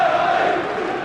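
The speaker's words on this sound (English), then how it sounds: "A crowd that is expectant and noisy and contains the usual large quota down from the northeast." A large football crowd at Highbury for Arsenal against Newcastle, with many traveling fans from the northeast, roars in a broad, steady wash of noise, loud and sustained through the short moment with no clear single voice.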